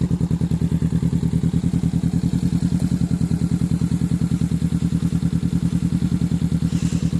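A Honda Rebel 500 motorcycle engine idles steadily nearby, its twin exhaust giving a loud, even, rapid low thumping pulse that continues without change.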